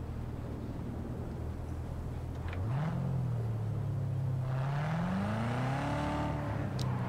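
Car driving in the video game Cyberpunk 2077: a steady low engine drone that rises and swoops in pitch as the car accelerates, with a smooth continuous rumble and no voices.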